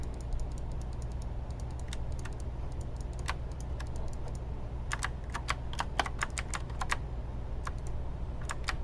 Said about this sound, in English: All that clicking you hear in the background is my using the arrow tools to achieve what I'm trying to achieve here from a viewpoint